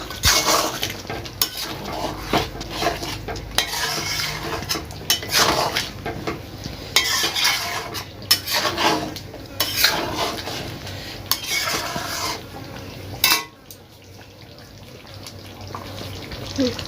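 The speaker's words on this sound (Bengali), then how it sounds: "এক চামচ গোলমরিচের গুঁড়ো দিয়ে মিশিয়ে নেবো" Chicken is mixed with a spoonful of ground black pepper in a pot for a green coriander chicken, giving steady close clinks and scrapes of a utensil against metal, with a brief quiet pause near the end.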